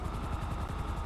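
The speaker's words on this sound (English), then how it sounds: "I can see the chopper." A police helicopter in GTA 5 hovers nearby, its rotor beating in a fast, steady pulse with a loud engine drone and no talk over it.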